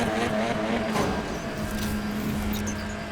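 A TCR touring car races at the Nürburgring in iRacing, its engine holding a steady, loud droning tone with wind and road noise, no talk over it.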